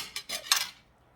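Metal knife clinks against a plate or pan while slicing cheese bread, a few sharp, close taps in quick succession that fade out, with no talking.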